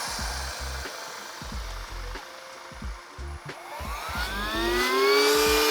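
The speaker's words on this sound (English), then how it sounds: "To use the pump, just simply take this side right here, put it against the opening of the valve, and turn it on." An electric air pump deflates a camper van front cab mattress, a steady nearby whirring drone with airy rushing and rhythmic low pulses, rising in pitch toward the end.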